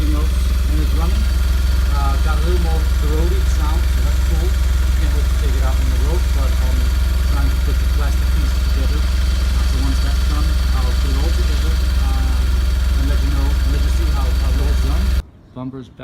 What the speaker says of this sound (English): it's running. Got a little more throaty sound, so that's cool.